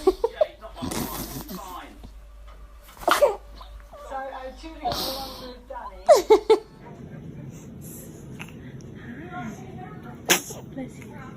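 A baby lets out a few quick, close sneezes mixed with giggles and small vocal noises. Softer background chatter and handling sounds follow, and an adult's voice comes through faintly.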